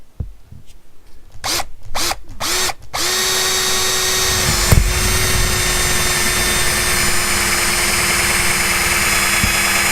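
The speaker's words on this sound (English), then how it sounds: "I'm going to start with a pilot hole, and I have to go up to about a 3/4 to get all the way through." A power drill bores a pilot hole for a Haloview RD7 backup camera, starting with a few short bursts and clicks, then settling into a loud, steady high whine held close to the mic.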